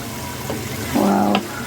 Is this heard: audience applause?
no